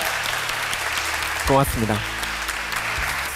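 Audience applause at a Korean public talk show event, a broad wash of clapping running throughout with a host's voice speaking briefly over it near the middle.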